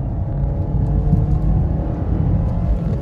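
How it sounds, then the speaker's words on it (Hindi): A Maruti Suzuki Swift Dzire VXi running on petrol accelerates hard, heard from inside as a steady low engine rumble and road roar, close and loud without pauses. "पेट्रोल पे मैंने गाड़ी कर ली है स्विच, अब भाई एक बार वापस से भगा के देखते हैं।"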